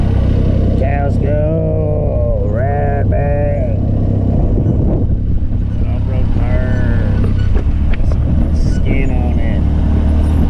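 Cattle mooing in a video game, with several drawn-out, pitch-bending calls over a steady, loud engine drone from a terrain vehicle, while people talk over it.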